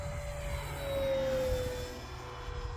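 An FMS P-47 radio-controlled model plane makes a full-speed flyby, its electric motor whining in a rising-then-falling pitch as it passes, with wind rumble throughout.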